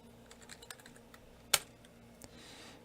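Keystrokes on a computer keyboard entering a command during an operating system install, a few soft taps followed by one sharp, louder key strike near the middle and a fainter one after, with no talking.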